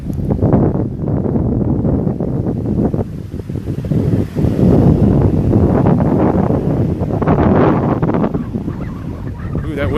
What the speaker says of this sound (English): That wind's kicking up.